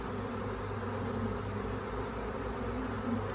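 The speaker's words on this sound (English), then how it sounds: "I've seen lots of bees enter the hive. There's some fanning going on here occasionally, which I'd like to see. The sound is unbelievable." Honeybees at a hive, some fanning at the entrance, make a dense, steady, continuous buzz, close and full, with no pauses.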